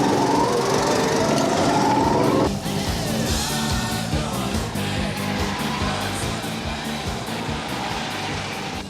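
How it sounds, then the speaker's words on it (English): A go-kart engine running at an amusement park, a buzzy, high-pitched motor whine that drops in pitch partway through and then settles into a steady, rough drone, heard up close. "Fire up the engine and step on it."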